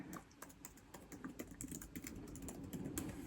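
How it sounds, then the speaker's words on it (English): Soft, close typing on a computer keyboard, a steady patter of key taps with slightly irregular rhythm over a quiet background. "Another trigger that could potentially be of use to you is typing."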